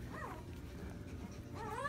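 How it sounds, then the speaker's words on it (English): Soft, high-pitched whimpers from newborn Sheepadoodle puppies, a couple of rising squeals at the start and end over a steady low background hum. "I love barks and little chirps from little puppies"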